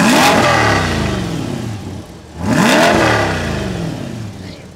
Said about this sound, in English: All right, so I'm finna rev it real quick.